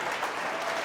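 A church congregation applauding loudly for God during a Hindi sermon, dense steady clapping filling the whole short moment with no voice over it.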